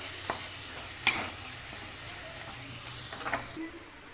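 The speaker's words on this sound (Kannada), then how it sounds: "ಸ್ವಲ್ಪ ಮಸಾಲೆ ಹಾಕೋತಾ ಇದ್ದೀನಿ ನೋಡಿ ಹ್ಞೂ ಚೆನ್ನಾಗಿ ಫ್ರೈ ಮಾಡಬೇಕು" Masala fries in a pan while being stirred, giving a steady near hiss of sizzling with a few soft clicks and scrapes of the spoon and no clear talk.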